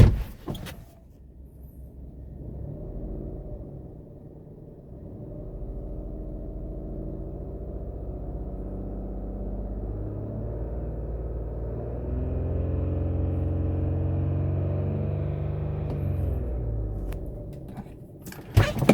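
A faulty Mini Rover engine revs up from idle, its low rumble swelling and holding before dropping back, with a rough, gravelly growl in the lower tones.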